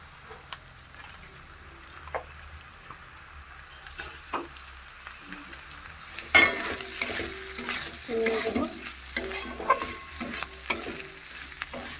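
Chilli powder and dried red chillies fry in a pan, a low sizzle with occasional scrapes at first, then louder stirring and spatula clatter with bursts of frying from about halfway on.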